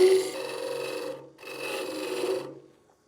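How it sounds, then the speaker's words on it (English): A square end scraper shapes a wooden canister lid spinning on a Laguna 1216 midi lathe, making two long, close, rasping scraping passes separated by a brief pause before fading out. "I'm going to form this thing using my square end scraper."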